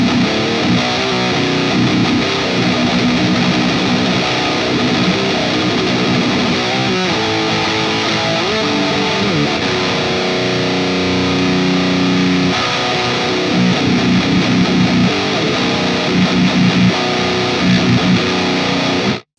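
Heavily distorted electric guitar played through a Boss Metalcore ML-2 pedal, with thick chugging riffs and sustained chords at a steady, loud level, stopping sharply at the close with no talking.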